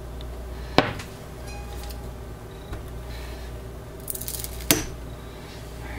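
A knife cutting a thin slice from a bar of oatmeal milk and honey soap, with two sharp close clicks or thuds and faint scraping between them, no talking.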